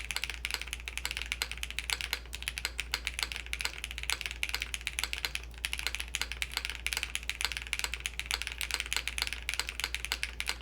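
Steady, rapid typing on a 75% mechanical keyboard with a continuous patter of clicky, slightly plasticky keystrokes over a low hum, with no voices.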